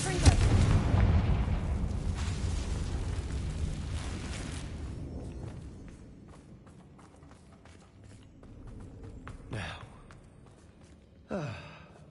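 Explosion spell cast in a wizarding video game: a loud blast opens and rumbles away over several seconds, followed by quieter sweeping whooshes and a final short burst.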